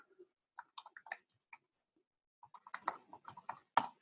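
Typing on a computer keyboard, with short sparse bursts of quick close key clicks, a pause, then a denser flurry of keystrokes, in a quiet room.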